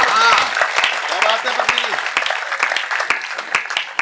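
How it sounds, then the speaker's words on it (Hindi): Audience clapping at a live Hindi stand-up or poetry show, a steady patter of many hands running throughout, with a voice talking over it. "एक बार जोरदार तालियां बजा दीजिए"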